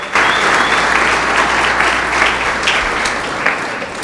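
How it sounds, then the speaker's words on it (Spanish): A church congregation applauding loudly and steadily, dense clapping from a large crowd at close range holding at full strength for the whole stretch. "Dele un fuerte aplauso al Señor."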